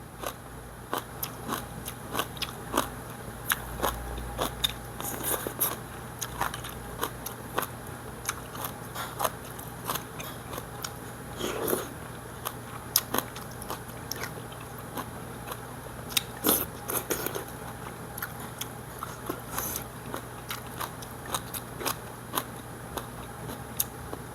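Crisp, crunchy chewing of sweet potato stem kimchi, made from salted rather than blanched stems, repeating in close, steady bites with sharp crackly crunches over a long stretch and no talking.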